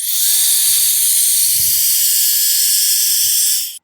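Electric air duster on its high-flow setting blasting air onto rocks, a loud, steady, high-pitched rushing hiss heard up close that holds for several seconds and then cuts off.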